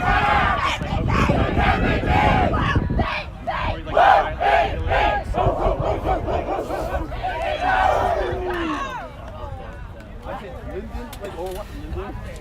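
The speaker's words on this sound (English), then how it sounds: "We're starting to see University of Ottawa do their cheer." University of Ottawa team members shout a loud group cheer chant in rhythmic bursts, a crowd of voices chanting together with chatter around them, the chant fading toward the end.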